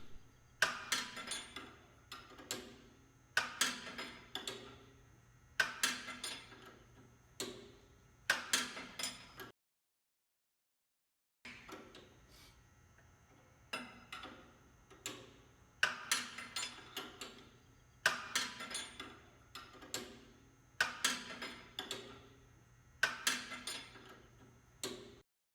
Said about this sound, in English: Tighten the bolts using the 24mm wrench we used to remove them from the old frame.